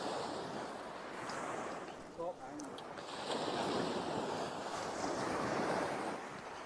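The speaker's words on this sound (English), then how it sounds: "Come with me as we go and put it back in the sea." Sea waves washing on the shore at night, a continuous broad rushing surge that swells and eases, with wind noise and a brief chirping sound in the middle.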